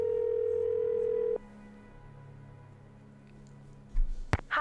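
Telephone dial tone in a video game while calling home, a steady loud tone for over a second that cuts off, followed by a quiet low hum and a couple of clicks.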